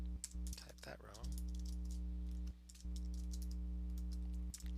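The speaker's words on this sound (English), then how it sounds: "Oops, typed that wrong." Rapid keystrokes on a computer keyboard while writing code for a Pig dice game program, close and steady in irregular bursts with brief pauses, over a constant low electrical hum.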